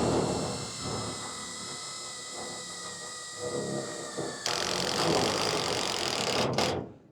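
A power driver sinks a screw into 7mm steel angle in a workshop build, a steady high whirring grind that grows harsher and louder partway through, then cuts off abruptly at the end.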